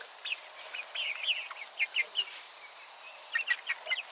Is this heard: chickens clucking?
yes